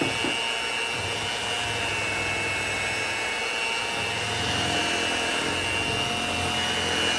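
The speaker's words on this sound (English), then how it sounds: "I just use a hand mixer like I said" Steady electric motor whir of a hand mixer running continuously, with faint rhythmic churning underneath as it beats cake batter.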